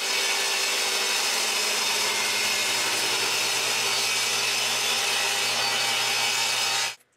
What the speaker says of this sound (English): we also need to remove some wood so the planks will go over the